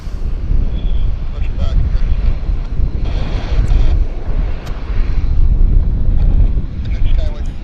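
A large airliner at Vancouver Airport makes a loud, continuous engine roar with broadband rumble and wind buffeting on the microphone, holding steady throughout.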